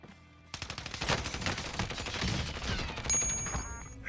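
Rapid gunfire in a video game, a steady burst of dense, loud shots under a music-like tonal bed, with no voices heard.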